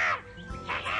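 A cartoon parrot lets out a loud, harsh squawk, two raspy bursts within a second, close and alone without talk over it.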